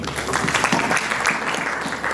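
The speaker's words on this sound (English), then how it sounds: "Let's have a clap for him." An audience at an East Africa Law Society annual conference gives a brief burst of steady, close applause.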